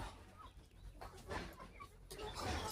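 Faint, scattered clucks and short calls from a rooster and hens settled near their feed, heard at a distance under low background noise.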